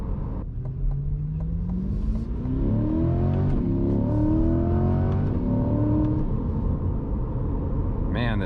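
A Chevrolet C8 Corvette accelerating on an open road after a downshift, its engine note climbing steadily in pitch through a gear, loud and close from inside the car, then settling into a deep rumble.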